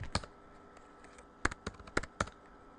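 Scattered clicks of a computer keyboard as a password is typed while patching an Oracle EBS R12 system, a few isolated taps followed by a quick cluster of keystrokes, close and clear with no talking.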